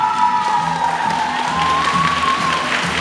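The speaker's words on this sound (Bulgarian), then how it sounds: "И аплодисменти за победителката тази вечер." Steady applause and cheering from an audience at a teen and children's beauty pageant in Ruse, celebrating the winner, with a sustained crowd roar and faint tonal music under it.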